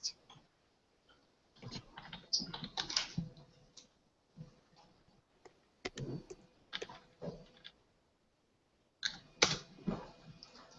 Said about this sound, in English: as I type text